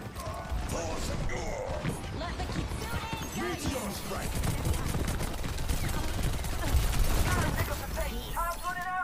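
Rapid gunfire crackles through a busy Overwatch 2 match, dense bursts of shots mixed with game effects and music while a player talks over the action.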